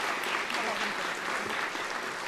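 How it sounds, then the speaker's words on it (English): A crowd of onlookers applauds steadily and loudly for Patricia at a Día de la Charra cowgirl celebration, dense clapping filling the whole moment with a faint murmur of voices underneath. "A round of applause for Patricia."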